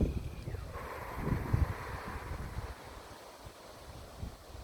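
Soft wind blowing outdoors, a low rumbling gust with light buffeting against the microphone that swells around the middle and then eases to a quieter, steady breeze.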